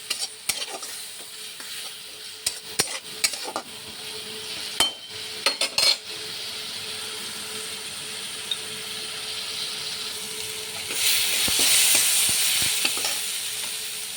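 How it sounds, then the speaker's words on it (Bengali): A pan of spice masala with cumin powder, chilli powder, a little sugar and a splash of water is stirred and fried for Bengali egg curry, with close sizzling under sharp scraping clatter of a spatula against metal. "ভাজা হয়ে গেছে কষিয়ে নেব"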